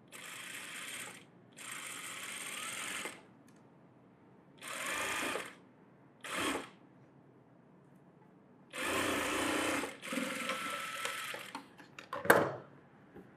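A sewing machine stitches a net blouse in several bursts of whirring, with pauses between runs of different lengths and a sharp clack near the end. It sounds close and steady.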